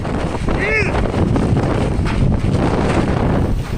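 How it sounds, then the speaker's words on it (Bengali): Strong gusts of Super Typhoon Ragasa striking the Philippines, a loud, continuous roar of wind buffeting the microphone, with a brief whistling tone early on and no break in the blustery rush. "এর প্রভাবে দেশটির বিভিন্ন প্রদেশে ঝড়ো হাওয়া ও অতিবৃষ্টি বয়ে যাচ্ছে।"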